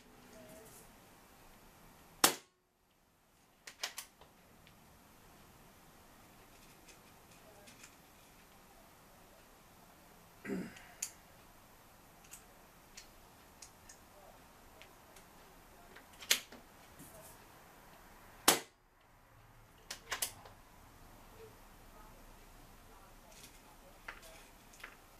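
An air rifle fires Chinese .177 QYS Diabolo pellets in a quiet setting: two sharp, loud reports stand out well apart, with a few smaller clicks and taps between them over a low background hiss.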